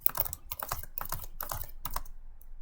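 Rapid typing on a computer keyboard during a game session, close and fairly quiet, with irregular bursts of sharp key clicks and brief pauses between them.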